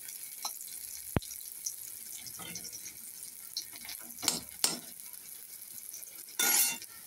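Fish frying in oil in a wok for a prawn, bitter gourd and potato dish, a steady soft sizzle with scattered clinks of a utensil against the pan and a brief louder scrape near the end.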